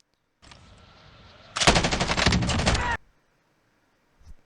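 Automatic weapon fire in the video game Warzone, a dense rapid burst of gunshots lasting about a second and a half after a quieter lead-in, loud and close, followed by silence and one faint thud.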